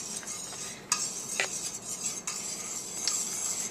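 A custard-like mixture with cornstarch is whisked vigorously in a bowl, a close, continuous scraping swish with a few sharp metallic clinks of the whisk against the bowl.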